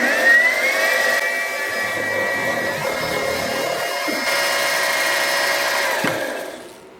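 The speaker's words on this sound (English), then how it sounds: "I'm going to swap out for a milling cutter and make a little surface there." Loud, steady machining whine with tonal ringing as a milling cutter surfaces a metal Stirling engine part, a metal-cutting drone that holds for several seconds, then winds down and fades at the end.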